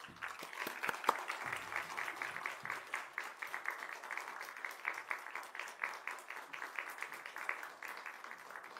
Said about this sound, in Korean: 오늘 이 시간 하나님의 말씀 안에서 깊은 통찰과 은혜를 나눠주실 박지은 전도사님을 박수로 맞이하겠습니다